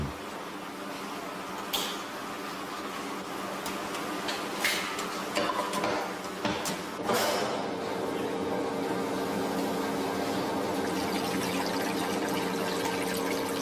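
Freshly pressed Beaujolais grape juice runs from a modern wine press at a winery, a steady liquid trickle and pour under the hum and clatter of press machinery, with a few sharp knocks along the way.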